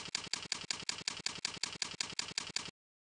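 Rapid, even clicking of keys as an email address is typed into a mail account setup, about a dozen crisp keystrokes in steady rhythm, close and faint, then silence.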